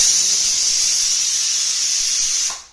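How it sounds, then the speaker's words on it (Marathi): A pressure cooker holding a dry black-eyed pea curry vents its whistle as a loud, steady, high steam hiss close by, holding constant before cutting off abruptly near the end. "कुकरची शिट्टी झाली"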